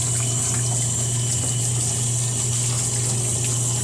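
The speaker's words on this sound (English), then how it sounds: "I'm just taking it and just rinsing it off." Tap water runs steadily as a refrigerator drawer that held pickle juice is rinsed in a kitchen sink, a continuous close gushing with a low pump-like hum beneath it and no talking.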